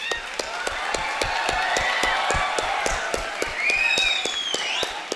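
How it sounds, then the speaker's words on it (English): Applause fills a hall at a university convocation ceremony, with dense, sustained clapping from a large crowd and a few sharper claps standing out throughout. "congratulations to all of you and a round of applause"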